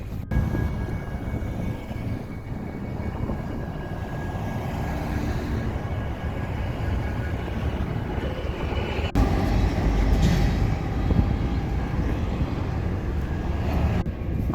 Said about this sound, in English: Oh no, the train.